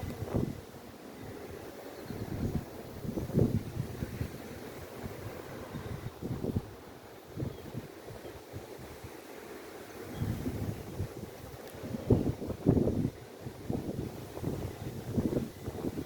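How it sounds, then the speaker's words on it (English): Outdoor wind gusts buffet the microphone near beehives, with uneven low rumbling blasts rising and falling over a steady faint hiss, fairly quiet overall. "I sure wish this wind would die down and the sun would come out."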